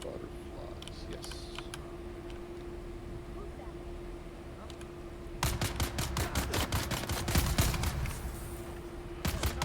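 A Gatling gun in the video game Dune Awakening opens up partway through with a rapid, evenly spaced burst of sharp shots over a steady electronic hum, quiet game ambience before it.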